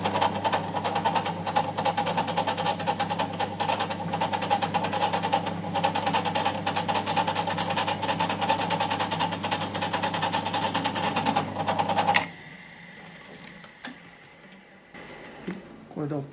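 Power tool running at 800 rpm while cutting out a Stratocaster pickguard, a steady droning whine with a strong hum that continues for about twelve seconds, then stops abruptly, leaving a few faint clicks.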